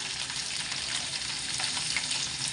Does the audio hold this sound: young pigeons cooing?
no